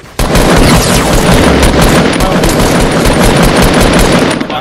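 Dense, loud rapid gunfire in Fortnite, a continuous automatic burst that fills nearly five seconds without pause, with no talking over it.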